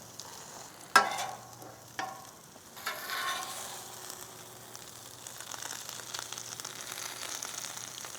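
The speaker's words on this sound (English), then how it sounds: "And now the tricky part, just trying to get them flipped over." Loaded hashbrown omelets sizzling quietly on a grill, with a sharp scrape and a few clanks of a spatula as they are flipped, followed by a steady low frying hiss.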